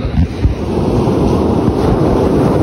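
Big ocean waves break on a beach in Zambales, a loud continuous roar of surf with buffeting wind noise throughout and no clear gaps.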